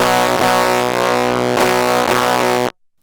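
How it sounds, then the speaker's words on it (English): A guitar run through an overdrive pedal pushed to heavy distortion rings out as a loud, buzzing sustained chord with a couple of re-strikes, then cuts off abruptly into silence. "let's see what happens when we push the distortion more"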